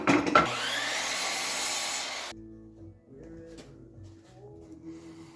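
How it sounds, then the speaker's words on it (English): Old miter saw cutting wooden pieces to length for a treasure chest, a loud sustained blade whine for about two seconds that cuts off abruptly, followed by quieter knocks as the wood is handled. "To cut our pieces to the right length, we're gonna use the old miter saw here."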